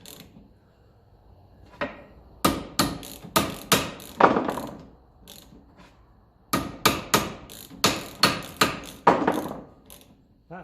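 Sharp metal taps of a hammer on a nut and bolt from a 1954 Ferguson TEF 20 diesel tractor, heard in two close bursts of about five strikes each with a few softer knocks between, loud and with no talking.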